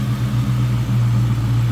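A 1998 Ford Mustang SVT Cobra V8 fitted with a BBK throttle body runs smoothly at a steady, close idle, with a continuous low rumble and no voices present.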